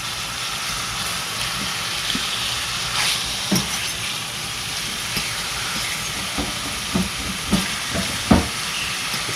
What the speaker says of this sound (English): It seems to be searing a little bit.